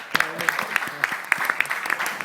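Scattered audience clapping, uneven individual claps from a small group rather than a full ovation, fairly close and lively, with voices talking underneath.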